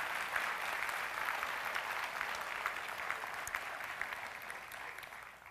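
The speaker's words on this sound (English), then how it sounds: "Can you give them a round of applause, please" Audience applause fills a church during a Mother's Day service, a steady, sustained clapping from a congregation lasting several seconds at moderate level, with no talk over it.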